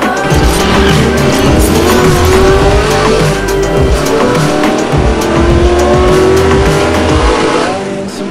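A 2019 Volkswagen T-Cross SUV with a 1.0-litre, 115 hp three-cylinder engine drives hard with tires squealing and the engine pulling loudly and continuously up close.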